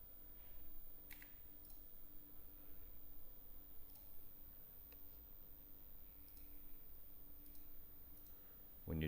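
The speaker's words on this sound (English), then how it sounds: "then you can just click onto the spots" Soft, sparse mouse clicks while retouching spots with a spot healing brush in Photoshop, a handful of faint separate ticks spread over quiet room tone, no talking.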